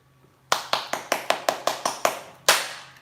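Several people clap in a quick rhythmic burst at a Spanish-language gin tasting, about nine sharp, evenly spaced claps followed by a final louder one, close and clear with no talking over them.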